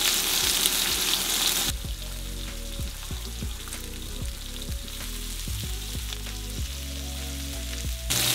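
Bacon sizzles in a hot pan for a burger, a steady broadband frying hiss throughout with a brighter burst at the start and end, while low tonal clanks and music-like tones sit underneath; no talk.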